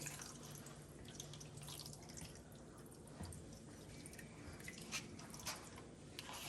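Gravy made from envelope mix and water poured over hamburger steaks in a pan, giving a steady close liquid trickle and dripping with soft squishy splashes throughout.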